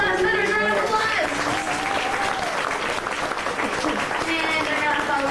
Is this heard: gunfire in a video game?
no